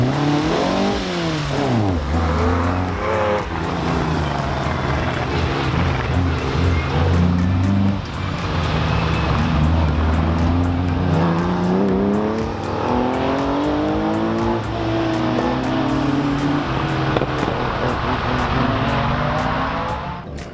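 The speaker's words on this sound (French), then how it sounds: "La route humide et les belles historiques, menées ce matin par la M3 de Keller, suivies de près par les Ford de Rizzi, Deria et Blanchard-Guet" Historic rally cars, including a BMW M3 and Fords, race along a wet special stage in the Rallye International du Valais, engines revving hard and rising through gears as they pass close by, continuous and loud with no talk.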